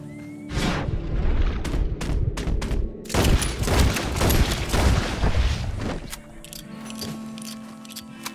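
Gunshots in Red Dead Redemption 2 during a fight against pumas, a loud, dense volley of overlapping cracks and booms with a few isolated shots, close and without speech.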